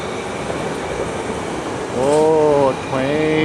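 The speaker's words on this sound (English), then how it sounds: "Oh, a train." A train moves through a station with a continuous rumbling roar and rising metallic wheel squeals near the end, fairly loud and close.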